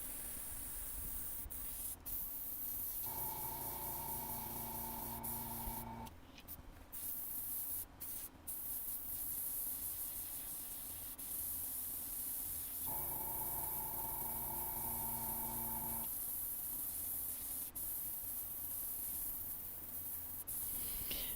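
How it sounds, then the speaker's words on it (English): An airbrush sprays paint through stencils, giving a steady close hiss with a couple of longer bursts of sharper spraying and brief spitting interruptions between them. "That's my airbrush spitting on me."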